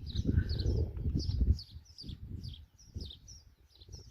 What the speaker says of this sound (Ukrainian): зі співу пташок